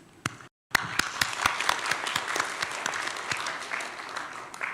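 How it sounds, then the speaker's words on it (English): At the Boao Forum for Asia's South China Sea sub-forum, the audience applauds ten panelists; after a couple of early claps and a brief pause, dense, lively clapping fills the hall and holds steady. "please give our 10 distinguished panelists big applause, please"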